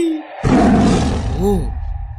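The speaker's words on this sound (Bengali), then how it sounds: "ও তো বাঘ।" A deep, loud tiger roar swells up and sustains for over a second, then fades with a wavering tail.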